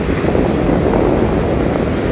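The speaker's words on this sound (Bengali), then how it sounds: "এই মুহূর্তে যে ট্রলারগুলি যায় গভীর সমুদ্রে, ওগুলো কিন্তু ফিরছে মৎস্য শিকার করে।" Fishing trawler returning from the deep sea at the Digha estuary at evening, heard as a loud, steady rumbling engine drone blended with wind buffeting the microphone and surf, continuous with no voices.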